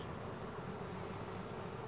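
Honey bees humming in an open hive during a colony inspection, a steady low buzzing drone with faint higher whines passing through, close and continuous with no voices.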